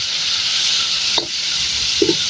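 Pork sautéed and stirred in a home kitchen pan while mung beans are cooked sizzles steadily with a close, hissing fry, broken by a couple of short scraping clicks from stirring, with no talk.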